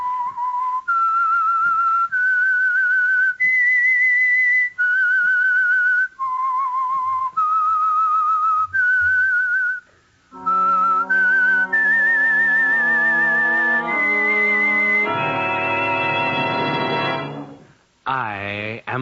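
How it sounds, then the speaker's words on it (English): The whistled theme tune of The Whistler radio program, a clear solo melody of sustained notes stepping up and down, followed by a fuller orchestral passage with a rising run and a brief break. "That whistle is your signal for the Signal Oil Program"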